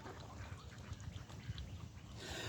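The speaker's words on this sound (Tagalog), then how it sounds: "Tapos may ibon pa dumagdag." Ducks quack repeatedly in a cluster as a flock gathers close by to be fed bread, a busy run of calls over steady outdoor background noise.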